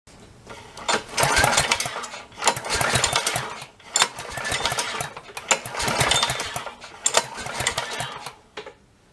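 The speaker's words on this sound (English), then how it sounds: "I'm going to do a compression test on this John Deere" A John Deere lawn mower engine, aged and cold, cranks over in repeated bursts during a compression test, each spell of fast rhythmic chugging lasting a second or two with short pauses between, loud and close.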